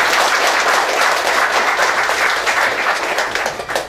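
Dense, steady applause from a seated audience welcoming an honored guest at a formal Korean gathering, a loud continuous wash of clapping that fills the whole stretch before tapering slightly at the end.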